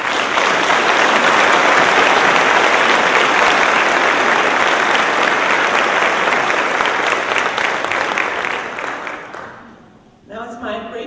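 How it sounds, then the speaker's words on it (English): Sustained audience applause at a college of pharmacy white coat ceremony, filling the hall loudly and steadily for about nine seconds before fading, followed by a short stretch of talk. "Would the audience please join me for a round of applause for our faculty and staff."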